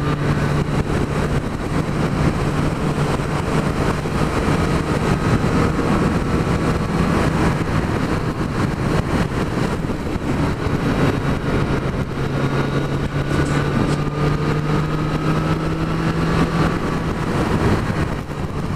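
A Triumph Street Triple 765 motorcycle engine while riding, a steady loud drone with a low humming tone that slowly shifts pitch, wind noise rushing over it continuously.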